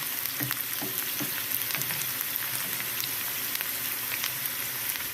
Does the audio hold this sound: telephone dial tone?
no